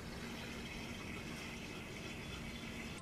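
Water drains through a tornado tube vortex joining two bottles, a steady, close, gushing swirl that runs on without a break and has no talk.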